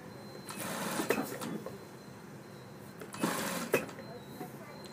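Domestic sewing machine stitching a girl's frock, running in two steady whirring bursts with faint needle clatter, heard close under a woman's instructional speech.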